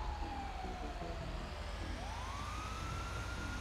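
A fire truck siren in GTA 5 wails steadily, its tone sliding down and then sweeping back up, over a constant low engine rumble.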